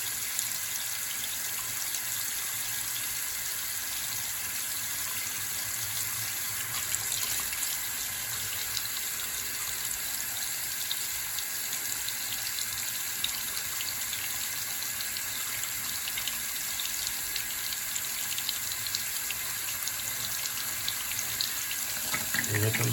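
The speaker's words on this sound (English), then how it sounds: "flow slowly from the faucet until hot water reaches the valve" Steady stream of water running from a household faucet while waiting for hot water to reach a sensor valve, a constant moderate hiss with no talking.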